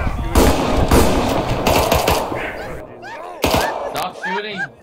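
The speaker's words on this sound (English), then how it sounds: "Open fire on that man!" Soldiers firing guns in a video game, rapid bursts of loud gunshots up close, followed by shouted voices and sparse further shots.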